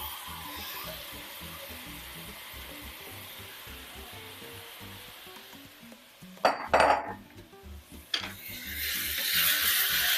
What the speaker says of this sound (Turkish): Hemen pirincimizi de ilave ediyorum.